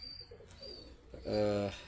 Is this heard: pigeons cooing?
yes